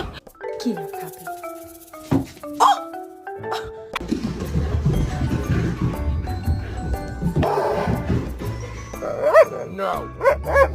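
A puppy barks and yips in short bursts amid a busy stretch of sound, with people talking and music-like tones over parts of it.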